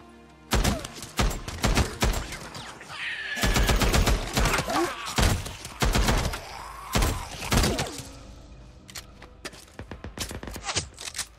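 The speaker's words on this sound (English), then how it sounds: "Headshot with a full auto rifle." Bursts of full-auto rifle fire in the Days Gone video game, loud and close, in rapid volleys with short gaps, mixed with impact thuds and game effects.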